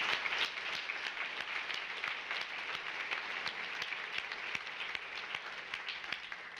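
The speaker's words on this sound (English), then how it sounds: "Can you please give them a round of applause?" Applause rises from the audience at a morning community breakfast event: steady, fairly close clapping with distinct individual claps standing out, keeping on without any speech.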